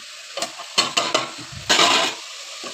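Cauliflower and tomato curry with salt, turmeric and chilli powder stirred in a pan: a few quick scraping strokes and one longer sweep over a faint sizzle, close and fairly loud, with no talking.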